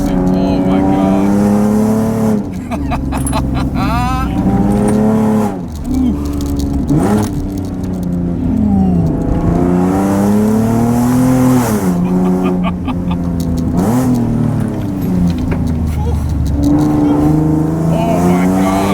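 Loud Nissan 370Z with a newly replaced subframe driving through mountain turns, the engine roaring and rising and falling through gear changes continuously, with someone talking excitedly over it.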